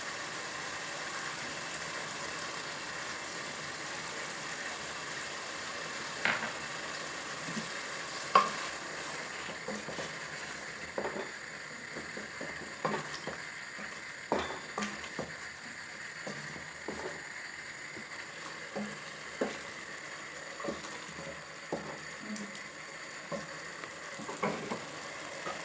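A bottle gourd curry with freshly added tamarind juice cooks in a pan, giving a steady close sizzle while a spoon stirs it in irregular clinks and scrapes, with no talking.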